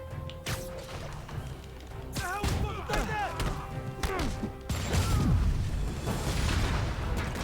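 Rocket launcher blasts in Marvel's Spider-Man, with several heavy booms and crashes spread across the stretch amid game effects, while someone talks over parts of it.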